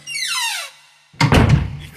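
A room door shuts with a short squeak followed by a solid thunk, a radio drama sound effect heard alone at moderate loudness.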